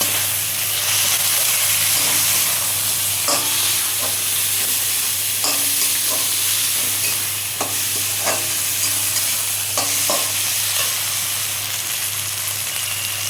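Fish curry masala with tomato stir-fried in a pan for Bengali fesa fish jhal: a loud steady sizzle and hiss, with a spatula scraping and tapping the pan at intervals, up close and without speech.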